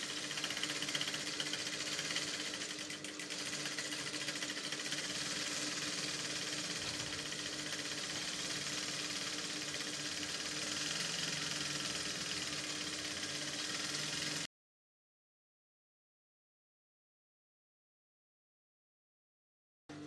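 A sewing machine stitches down the crinoline hem of an umbrella dress, a steady mechanical whir running unbroken for about fourteen seconds before it stops into silence.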